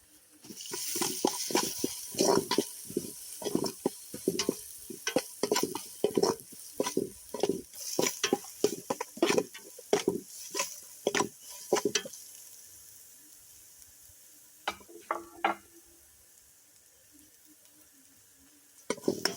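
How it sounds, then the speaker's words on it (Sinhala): Whole spices tossed in a pan over a village wood-fire hearth for chicken biryani: cinnamon bark, bay leaf, cardamom pods and more, stirred with repeated scraping strokes and sizzling steadily, then quieter with a few final scrapes. "මේක අපි ටිකක් ටෙම්පරරි කරගමු"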